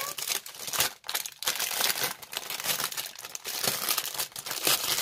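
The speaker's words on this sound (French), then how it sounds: "c'est un sachet Ribambelle. Je déteste ces sachets-là, mais bon. Je vais l'ouvrir." A Ribambelle plastic sachet is torn open and handled, giving loud, close, continuous crinkling and crackling with brief tearing bursts and short pauses.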